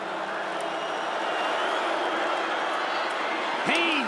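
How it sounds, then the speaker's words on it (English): A college football stadium crowd roars steadily inside the Dome, a broad continuous wash of cheering with no break, and a brief whistle rises near the end. "Crowd on its feet here in the Dome."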